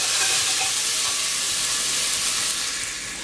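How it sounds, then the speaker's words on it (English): Peppers and onions sizzle steadily in a pan on the stove for a stir-fried cabbage dish, a close, continuous frying hiss with faint stirring scrapes and no talking. "just let that cook for about 2 minutes so the peppers and onions can sweat a little bit and soften"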